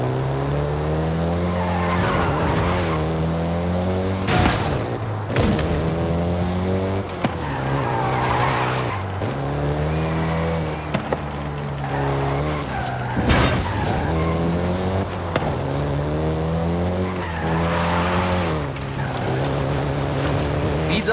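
A Volkswagen Golf GTI in Forza Horizon 5 revs hard with a loud, steady engine drone that repeatedly climbs and drops through gear changes, while tire squeal and skidding cut in at intervals.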